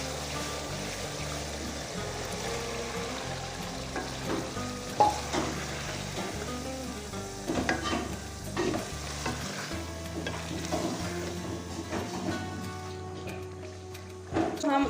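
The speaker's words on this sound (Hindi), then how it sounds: "हम अच्छी तरीके के साथ 2 से 3 मिनट तक भूनेंगे" Boiled chickpeas fry and get stirred into masala in a pan while chole is made, dhaba style. Steady sizzling runs under repeated stirring and scraping, with a low musical background throughout.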